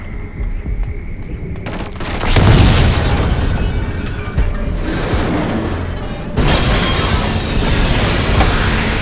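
A C4 charge blows out a window in the video game Killzone: Shadow Fall, a loud sustained blast of booming explosions and rattling gunfire that swells at about two seconds and surges again near six seconds.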